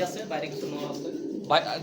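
Racing pigeons coo softly in the background while people talk over them, with a brief louder burst near the end.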